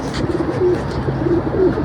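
Pigeons settled in a loft give soft, low cooing calls, several repeated coos rising over a steady murmur of the flock nearby.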